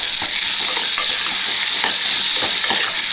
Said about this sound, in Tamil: இப்போ நம்ம தக்காளி ஆட் பண்ணிப்போம். தக்காளியை வதக்கிக்கலாம்.